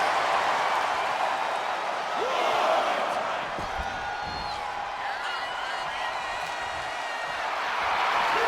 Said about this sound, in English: Aleister has this entire crowd lit up